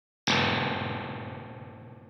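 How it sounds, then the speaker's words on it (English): A single drum hit or needle impulse sent through a spring reverb in a track, a sharp loud attack followed by a long metallic, ringing spring decay lasting about two seconds, with nothing else around it. "Could be a needle impulse sent through a spring reverb, or maybe even someone banging on reverb springs."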